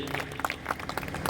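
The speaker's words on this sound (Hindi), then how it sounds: "तालियों में कंजूसी नहीं होना चाहिए।" An audience at a Gurjar community gathering in Katra, Shahjahanpur, Uttar Pradesh claps in a dense, continuous burst of applause, loud and filling the space for a short moment.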